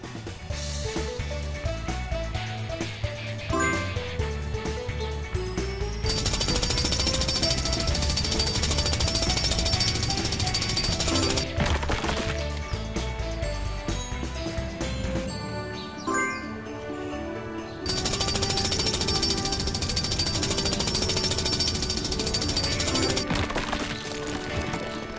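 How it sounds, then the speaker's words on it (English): A drill clearing a rock in a PAW Patrol video game, a loud continuous jackhammer-like rattle that keeps going for most of the stretch with brief breaks, mixed with upbeat game music and effects and no talking. "Help Rubble use his drill to clear the way."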